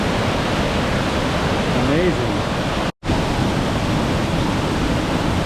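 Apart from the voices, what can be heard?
small waterfall at Cathedral Falls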